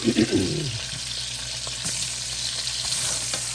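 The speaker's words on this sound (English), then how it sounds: "we just want to do stir-fried style cabbage" Cabbage stir-frying over high heat in a pan, a steady close hiss and sizzle with a brief stirring scrape at the start, soft voices murmuring faintly underneath.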